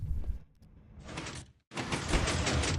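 A Minecraft redstone 3x2x1 piston door opens in the video game with mechanical sliding bursts: a short burst, a quieter stretch, another burst, a brief silence, then a longer, louder run of piston movement.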